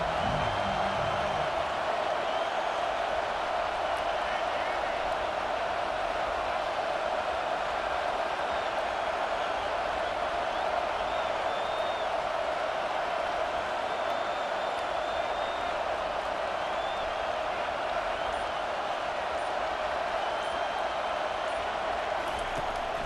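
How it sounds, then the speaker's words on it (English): Home crowd roaring in College Football 25 against Tennessee, a steady, dense wall of cheering and noise that holds loud and unbroken throughout, with faint game sounds layered on top. "how nice is it to have the home crowd going absolutely bananas"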